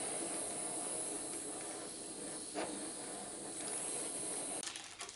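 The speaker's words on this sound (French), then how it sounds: "à l'aide d'un chalumeau, on va venir cuire notre meringue" A kitchen blowtorch browns the meringue topping of a lemon charlotte, giving a steady, close hiss that roars on without a break before cutting off near the end.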